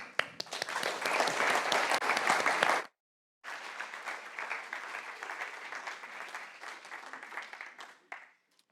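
Sustained audience applause welcoming a lecture speaker at an evening talk on heart rhythm, loud and dense for about three seconds, breaking off briefly, then resuming somewhat softer and continuing before fading near the end.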